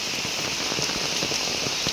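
Steady downpour in a village near the forest at Padasenang, a thick, constant wash of raindrops hitting nearby surfaces, loud and unbroken, with no one speaking.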